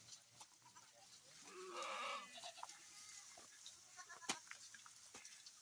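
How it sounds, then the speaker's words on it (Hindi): Goats bleat faintly and at a distance in a high mountain forest meadow on a trek, scattered calls over an open outdoor background with light clicks and rustles, no talk. "पूरा जंगल भरा पड़ा है बकरियों से, और बकरी हमें देख रही है ध्यान से।"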